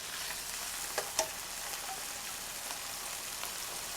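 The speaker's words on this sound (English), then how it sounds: "right now, we're just browning the ground turkey" Ground turkey browns in a hot pan for a coconut curry, giving off a soft, even sizzle with a couple of brief clicks from stirring, heard alone and fairly quiet.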